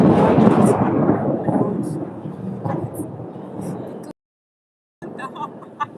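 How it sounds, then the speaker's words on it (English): Heavy rain pours outside with deep thunder rumbling through it, the downpour steady and loud before cutting out abruptly for a moment, then resuming. "It's been raining here. It's been raining all through."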